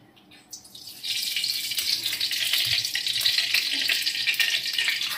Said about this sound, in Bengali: কড়াই গরম হয়ে গেছে, আমি এবার কড়াইতে তেল দিয়ে দেব।